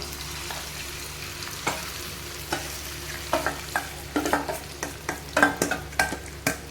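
Milk-soaked semolina stirred into hot ghee for rava laddu makes a soft sizzle under repeated scraping strokes of a spoon, which grow busier and louder in the second half.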